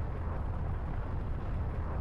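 A low, sustained rumbling roar from an explosion in the space combat game EVERSPACE, a dense steady wash of bass-heavy noise that fills the clip without any speech over it.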